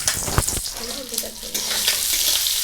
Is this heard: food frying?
yes